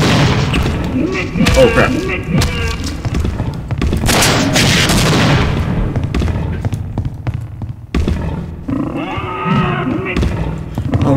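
Repeated gunfire and heavy booming explosions from the shooter game Half-Life: Opposing Force, loud and dense bursts with thuds between them, while a player talks over the action.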